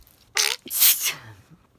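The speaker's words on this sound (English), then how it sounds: "The last few days, I've had a lot of sneezing." One close, loud human sneeze: a sharp explosive burst followed by a trailing breathy release, with quiet before and after.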